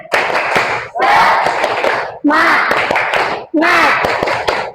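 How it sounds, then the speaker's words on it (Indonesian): A class of schoolchildren does a rhythmic spirit clap in the classroom, loud clapping in four bursts with chanting children's voices over each one. "Kita tepuk semangat dulu. Oke, tepuk semangat."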